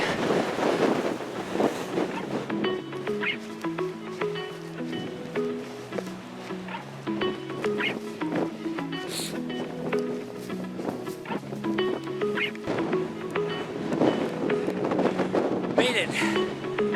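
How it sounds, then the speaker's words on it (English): Strong wind buffets an exposed hill path on Saucel Hill near Paisley, a steady loud roar of microphone wind noise throughout, with a voice talking and tonal layered sounds mixed underneath. "the wind's picking up, so we're no longer protected from the wind"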